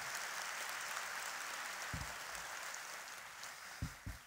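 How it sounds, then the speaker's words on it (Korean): At a teachers' appointment service, a church congregation gives continuous, even hand-clapping that fills the room, with a few soft low thumps near the end. "큰 박수로 격려해 주시기 바랍니다."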